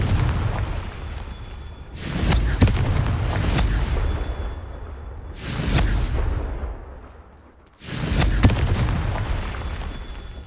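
Confringo spell explosions from Hogwarts Legacy go off one after another, three heavy, loud booming blasts with rumbling tails that fade between hits, no talking.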